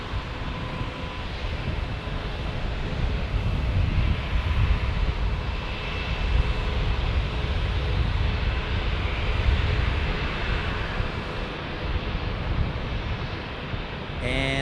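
A Southwest airliner takes off at San Diego airport, its jet engines a loud, broad, sustained roar buffeted by wind noise, with a voice speaking faintly at times.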